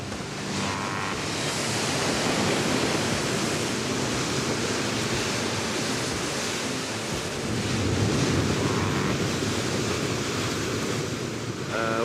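Powerful sea waves crash against a black lava shore on an Azores island, a loud, continuous roar of surf and spray with gusts of wind, close by and without voices.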